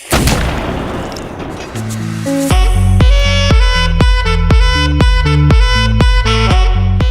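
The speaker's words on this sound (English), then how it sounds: "they did a cannon salute" A series of heavy cannon salute booms fires in steady succession in Malta, each ringing out with a sustained tonal tail, loud and continuous over a noisy background.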